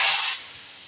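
Hot tempering of cumin and fenugreek poured over dal with brinjal, giving a loud, sharp sizzle that bursts at once and then eases into a quieter, steady hiss.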